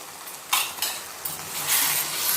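Gongura paste thinned with water is poured into a hot pan and stirred, with sizzling, scraping and spoon clatters on the pan, close and fairly loud.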